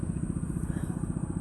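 Fishing boat engine running at speed at sea, a steady low throbbing rumble with rapid regular pulses, loud and continuous with wind noise on top.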